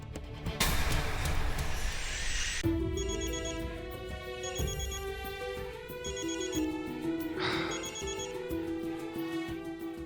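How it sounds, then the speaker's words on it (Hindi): A telephone rings on an outgoing call, a repeating electronic ringback melody heard close and clear in several evenly spaced bursts after a brief louder burst of noise at the start. "मैं फोन करता हूँ उसे"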